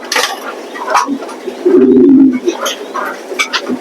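Racing pigeons at a loft give soft cooing calls, with one louder throaty coo in the middle, while someone talks nearby.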